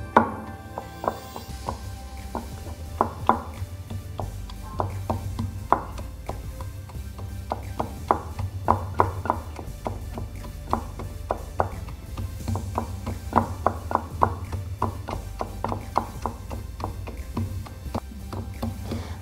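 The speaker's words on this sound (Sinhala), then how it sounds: "දාලා මම කොටා ගන්නවා." Curry ingredients being pounded in a Sri Lankan kitchen for a tempered broth, a steady series of sharp, close thuds repeating for nearly twenty seconds with no talking.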